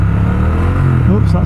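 Triumph Speed Twin motorcycle engine revving up after a downshift, a steady close mid-pitched drone with a rising rev near the end.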